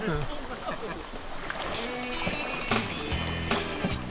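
A canoe being paddled on the Hiwassee River, with water sloshing and paddle knocks against the hull alongside intermittent clunks, while people talk over the scene.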